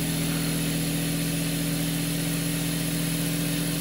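An Adams motor spinning at high speed, around 2400 to 2500 RPM, producing a steady, loud mechanical hum with a constant tonal whine and no break or variation.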